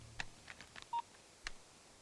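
A telephone keypad is dialed, sounding a few quick, faint tones spaced across a moment, with one longer steady beep in the middle, alone in a quiet scene of an action film.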